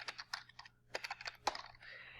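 Quick bursts of keystrokes on a computer keyboard, close and fairly quiet, in uneven clusters with a few short pauses and a heavier key press partway through.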